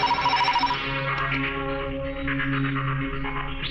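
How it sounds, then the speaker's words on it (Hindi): A telephone rings on an outgoing call, its steady tonal ringing holding for several seconds over a soft musical backdrop, with no one speaking. "फोन लगा जसवंत राय को।"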